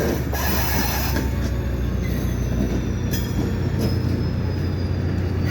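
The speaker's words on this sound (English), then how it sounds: "And here, this EXO train is moving forward." EXO commuter train moving forward at Pointe St. Charles in winter, a loud continuous rumble of rolling cars with high metallic wheel squeals rising and fading, close by and with no talk.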